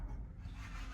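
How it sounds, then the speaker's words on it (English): Hand file rasping along a sharp edge of intake piping during a MAD intake install on a BMW B58 540i, a short close scraping stroke without talk. "it was just a little sharp on the edge right here, and I don't really want to cut myself, so I'm just kind of filing this down"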